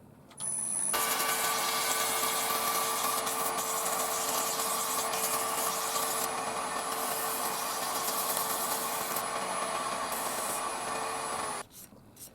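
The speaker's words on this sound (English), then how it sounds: "Just a quick bit of sanding, and then some sanding sealer" Sandpaper rubs steadily against a turned wooden ring box for about eleven seconds, a continuous close hissing scrape with a faint high whine from the spinning lathe, then stops abruptly.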